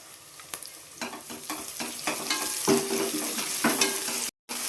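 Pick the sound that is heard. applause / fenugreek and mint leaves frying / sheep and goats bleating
fenugreek and mint leaves frying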